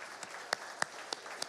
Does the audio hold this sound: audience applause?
yes